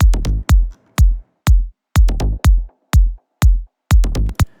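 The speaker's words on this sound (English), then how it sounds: "So with the kick, it sounds like this." Deep kick drum thuds layered with booming bass notes in a tight repeating pattern, loud and close, with short gaps between hits.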